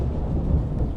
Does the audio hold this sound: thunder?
yes